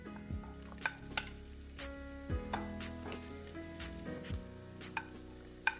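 Onion, garlic and ginger sauté in hot oil for Filipino chicken curry, with a quiet steady sizzle punctuated by occasional spatula scrapes and knocks against the pan, close with no talk.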